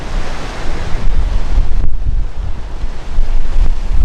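Gusty wind from a micro-gustnado dust storm in Boise, Idaho, roaring loudly and buffeting the microphone in continuous surges, with no speech.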